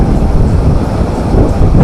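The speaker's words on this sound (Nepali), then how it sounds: "यो पानीको आवाजले मेरो भोइस सुन्दैन नसुन्ला भनेर एकदम चर्को बोलिरहेको छु" Jalbire waterfall in Chitwan roars loud and close, a dense continuous rush of water mixed with buffeting gusts against the microphone.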